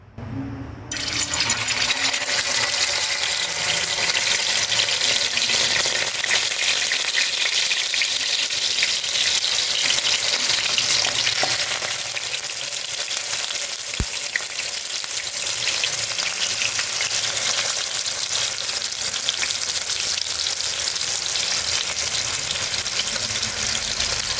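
Tofu frying in a pan of hot oil, a loud, dense, continuous sizzle up close that holds steady throughout, with a single sharp click partway through and no talking.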